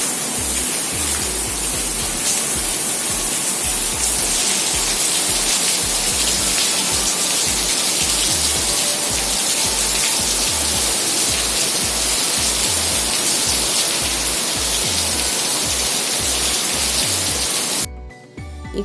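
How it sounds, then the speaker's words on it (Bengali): Heavy rain pours down in a steady, dense, loud hiss that stays constant for the whole stretch, with no voices, then drops off abruptly at the very end. "জোরে বৃষ্টি হচ্ছে, মানে এত জোরে বৃষ্টি হচ্ছে বলার নয়।"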